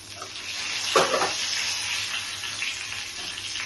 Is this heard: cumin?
yes